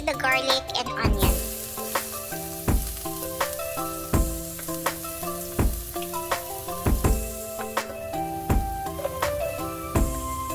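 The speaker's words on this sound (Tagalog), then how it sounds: "Using the same oil, we are going to saute the garlic and onion." Garlic and onion sauté in oil with a steady, close sizzle, broken by repeated scraping and clanking strokes of a utensil stirring the pan.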